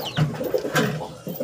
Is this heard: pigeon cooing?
yes